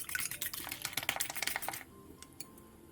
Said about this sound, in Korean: 볼에 계란과 소금, 설탕, 다진 마늘을 넣고 곱게 섞어주고